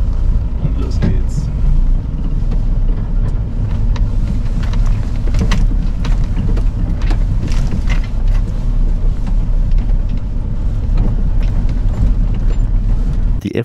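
An expedition motorhome in first gear sets off down a steep gravel track in Iceland, its engine giving a steady, loud low rumble with crunching and rattling from the rough surface throughout.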